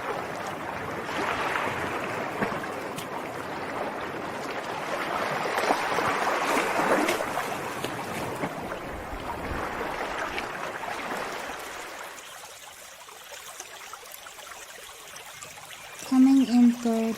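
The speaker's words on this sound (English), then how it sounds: "Number 4 on our list, we have wave and waterfall sounds." Flowing water with a steady broadband rush, like waves or a waterfall, runs for about twelve seconds, then drops to a quieter gentle trickle before a brief tonal sound near the end.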